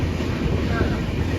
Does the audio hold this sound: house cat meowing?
no